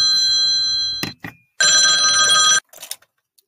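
A telephone rings loudly in two long bursts separated by a short gap, with a few brief soft knocks between and after the rings.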